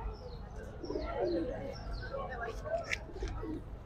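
Pigeons at a pigeon market in Hyderabad coo in soft, throaty bursts, mixed with a few chirps, while muffled voices murmur in the background.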